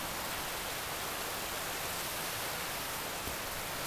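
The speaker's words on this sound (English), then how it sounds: "So you guys can hear that great sound," A flowing mountain stream rushes steadily on a hillside hike, a dense, even broadband wash of water close by with no pauses and no voices over it.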